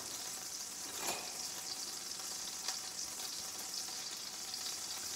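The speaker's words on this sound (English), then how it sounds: "And then I am going to add some butter. I'm just gonna let that melt in here a little bit." Butter melting in a pan with canola oil, giving a steady close hiss and crackle of frying with a few faint scrape-like stirring touches, no voices.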